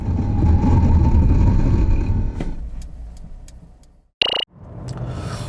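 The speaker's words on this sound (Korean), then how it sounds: "자, 그럼 이번에는 CLA250 포매틱, 과연 제동 성능이 얼마나 되는지 한번 볼까요?" Mercedes-Benz CLA 250 4MATIC in a braking test: loud, steady road and drivetrain rumble for about two seconds, then an abrupt drop to quieter rolling noise with a few faint clicks, a brief silence, and a short sharp mechanical sound near the end.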